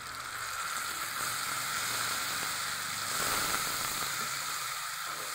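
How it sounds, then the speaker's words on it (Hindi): A paste of tomato, garlic and green chili fries in a pan with a steady, dense sizzle and crackle, soft and even throughout with no talking. "इसको थोड़ा फ्राई कर लेना होगा।"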